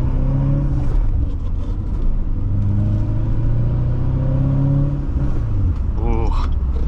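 Big block V8 in a 2016 Chevrolet Corvette Stingray with a manual gearbox, a deep engine rumble heard from inside the car, rising and settling over a few seconds with a brief higher squeal near the end.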